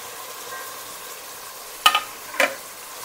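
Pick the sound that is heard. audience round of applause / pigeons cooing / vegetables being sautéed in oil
vegetables being sautéed in oil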